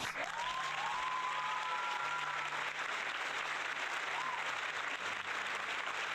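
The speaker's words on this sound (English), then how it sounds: "Jess gets the bonus applause." Extended bonus applause sound effect in a Minecraft stream, continuous crowd clapping for about six seconds, faint and steady, with a few whistle-like tones over it.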